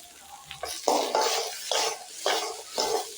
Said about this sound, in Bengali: নুন দিয়ে সবজিটাকে ভালো করে নাড়ছি